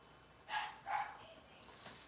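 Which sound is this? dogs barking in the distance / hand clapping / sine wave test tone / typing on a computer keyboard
dogs barking in the distance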